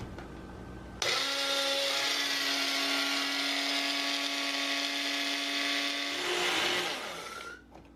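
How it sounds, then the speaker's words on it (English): A kitchen blender grinds old-fashioned oats into fine oat flour, a loud steady whirring roar that starts abruptly and runs for about five seconds before winding down. "all we're going to do is grind these up into a fine powder in the blender"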